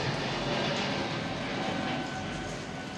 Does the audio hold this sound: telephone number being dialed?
no